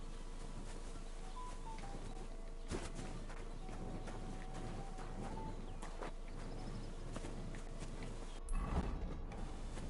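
Horse hooves clop along in Kingdom Come: Deliverance 2, a soft, steady rhythmic patter under faint birdsong, with a louder thump near the end.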